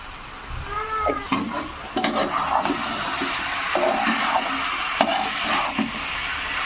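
Cabbage cooked with rohu fish head sizzles in a pan while being stirred, steady frying hiss broken by repeated scraping strokes of the spoon, close and fairly loud, no talking.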